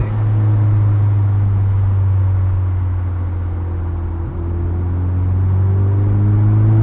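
A K20-swapped Porsche 997 fitted with a Garrett G35 turbo accelerates at low RPM, giving a loud, steady, deep engine drone with a strong low hum that rises slightly toward the end. There is no talking.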